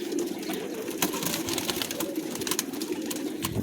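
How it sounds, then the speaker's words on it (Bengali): Racing pigeons at a loft feed on their afternoon grain, with soft cooing under a scatter of quick pecking taps, continuous and close. "দেখেন কবুতরগুলো কিভাবে খানা খাচ্ছে"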